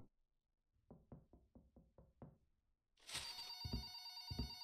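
A telephone rings loudly in a house during cleaning, a bright sustained bell burst with two low thumps, after a series of about seven sharp knocks or taps.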